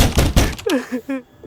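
Heavy banging on a door: a few loud, close thuds in quick succession, after which a voice calls out briefly.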